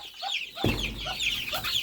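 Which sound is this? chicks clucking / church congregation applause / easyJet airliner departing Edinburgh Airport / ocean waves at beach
chicks clucking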